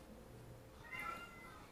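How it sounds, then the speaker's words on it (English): A house cat gives a single soft, faint meow, brief and drawn-out, against low background noise with no talk. "it sounds like he's saying "mom" when he meows"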